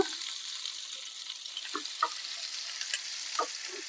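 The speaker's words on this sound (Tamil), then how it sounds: "இப்போ நீல வாக்குல குட்டி குட்டியா நறுக்கின சின்ன வெங்காயத்தை இதுல சேர்த்துக்கோங்க" Chopped shallots sizzle and crackle steadily in a hot pan while cooking semolina porridge, with soft stirring clicks and small pops scattered over the hiss.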